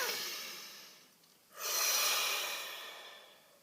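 A slow deep breath, a long exhale that fades out, a short pause, then a strong drawn-in inhale that tails off gradually, close and alone.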